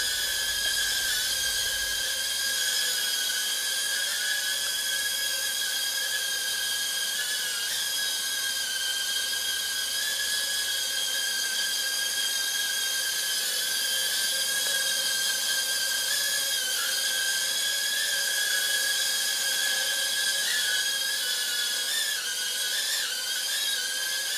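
SNAPTAIN H823H mini drone in flight, giving a loud, steady high-pitched whine from its spinning propellers that holds close and continuous throughout, with slight pitch wobbles and no talking.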